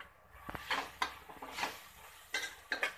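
Turmeric, chili powder, pav bhaji masala and salt being stirred and sautéed in a pan, with a spatula clinking and scraping against metal in irregular strokes and a soft sizzle beneath, close and fairly loud.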